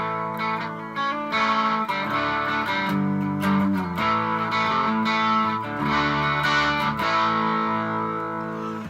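An electric guitar plays a bluesy riff through an overdrive pedal with gain at about 2 or 3, mildly distorted, with picked notes and sustained chords, loud and close, no voices.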